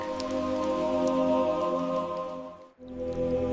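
Rain falls steadily in a forest, a continuous soft patter that drops away briefly near the end before resuming.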